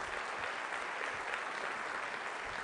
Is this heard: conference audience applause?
yes